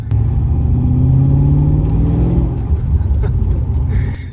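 A 2005 Holden VZ SS's LS1 V8 engine rumbles loudly and deeply while driving under 50 km/h, its tone rising as it accelerates and then settling into a steady growl.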